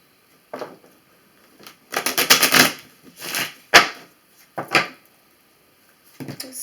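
Tarot cards shuffled by hand at close range, with several short bursts of riffling and shuffling separated by brief pauses, and no talking.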